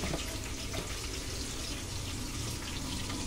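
Water pours steadily into a pot of Andhra-style fish curry, making a continuous splashing hiss with no breaks.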